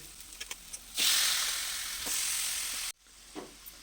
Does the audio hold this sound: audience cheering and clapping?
no